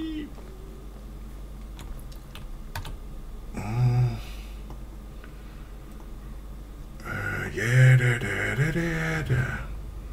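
Someone types on a computer keyboard with scattered, fairly soft key clicks, while stretches of talk or voiced sounds rise over them in the middle and again near the end.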